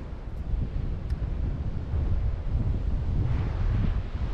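Steady wind buffets a microphone on a hike on Norfolk Island, producing a continuous low rumble that swells slightly partway through, with no talking.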